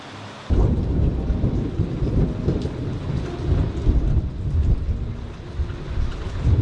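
Heavy rain pours steadily onto a house roof and yard, with rumbling thunder rolling through it, loud and continuous after a quiet first half-second.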